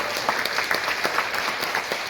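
A meeting audience applauds a past president in a short burst of dense, lively clapping from many hands, loud and close, with no voices over it.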